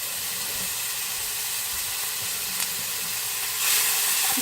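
Finely diced tomato lands in a pan of frying rice for Spanish rice. A steady, close sizzle hisses throughout and swells briefly louder near the end, with no talk.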